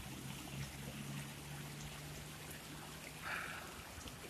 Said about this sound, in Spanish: El arroyito de montaña que baja a través de Potrerillos